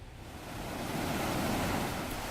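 A waterfall swollen by the heavy rains of Storm Rai pours in a dense, continuous roar. The rushing water grows slightly louder and fuller as it goes on, with no voices.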